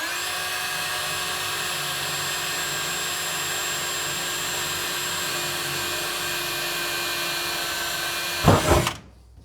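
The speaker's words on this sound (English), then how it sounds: "I'm just going to drill a little center hole through here so that I know where I'm going." A power drill bores a small center hole through the metal of a WW2 Willys jeep, a sustained high whine that holds steady for several seconds before a brief grinding burst as it breaks through and stops.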